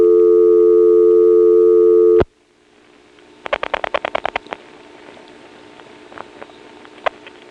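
A steady busy-signal tone stops abruptly, followed by a quick burst of rapid mechanical clicking and rattling from first-selector switches in a 1970s step-by-step telephone exchange, then scattered faint clicks.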